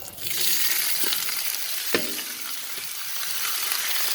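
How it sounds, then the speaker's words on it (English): Potatoes dumped onto a hot, oiled Blackstone griddle sizzle and fry in a steady, loud hiss, with a few faint clinks of a utensil against the metal surface. "I'm gonna put some oil down here. A bit of oil. And I'm just gonna dump my taters"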